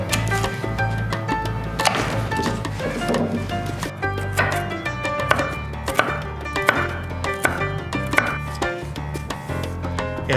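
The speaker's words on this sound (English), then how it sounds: "Go ahead and dice them up." A knife dices jalapeno peppers on a cutting board while a jalapeno cream cheese spread is prepared, giving steady, close, rhythmic chopping taps over a quiet kitchen background with no talking.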